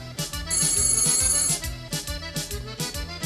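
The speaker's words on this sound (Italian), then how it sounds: "Il mio telefono" A mobile phone ringtone ringing in an Italian song, a loud, rhythmic electronic ring pattern repeating over a pulsing beat, with a bright sustained tone in the first burst.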